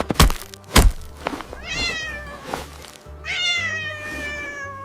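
A cat meows twice in drawn-out, wavering cries, close and clear, after a few sharp thumps and knocks at the start, with a quieter rustle between the calls.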